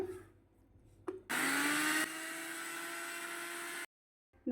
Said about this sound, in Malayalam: ഇതിനെ നമുക്ക് മിക്സിയിലിട്ട് പൊടിച്ചെടുക്കാമേ